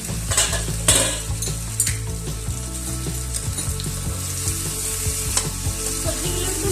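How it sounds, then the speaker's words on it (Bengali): Vegetables for Bengali shukto being stirred in a pan, a loud steady sizzle with repeated scraping and clinking of a spoon against the pan, close and without talk. "সবজিগুলো একটু নেড়ে নিচ্ছি।"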